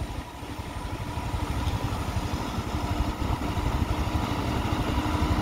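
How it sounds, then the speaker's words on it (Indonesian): Project vehicles, including trucks, drive past on a new mountain road between Alahan Panjang and Solok-Bayang, Pesisir Selatan, their engines rumbling steadily and close throughout with a rough clattering mid-range drone. "Kita videoin dulu ini, ada mobil yang lewat."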